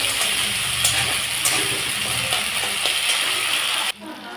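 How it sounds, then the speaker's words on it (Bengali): Masala of onion, tomato and ginger fries in a pan for a Bengali fish and cauliflower-potato dalna, a bright steady sizzle with light stirring clicks that cuts off abruptly near the end, leaving a quieter hiss. "এর মধ্যে এবার আদাটাও দিয়ে দেবো, দিয়ে আমি ভালো করে মশলাটা কষিয়ে নেব।"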